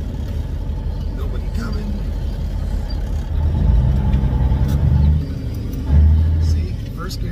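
A semi truck with a 13-speed manual transmission pulls away in first gear, its deep diesel engine rumbling up with two brief rises in revs while someone talks over it in the cab.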